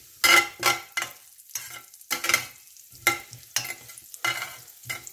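About two tablespoons of cumin seeds crackle in ghee at close range, heard as a run of short sizzling bursts and stirring scrapes separated by brief pauses.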